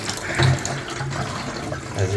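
Water still trickling and splashing from a leaky Delta double shower head with the supply turned off, a short, steady, close flow with slight surges.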